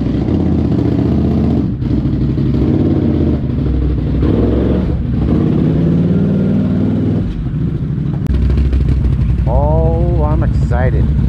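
A 2022 Can-Am Renegade X-MR ATV engine rumbles loudly up close, then revs in several rising bursts near the end; a voice speaks over the engine.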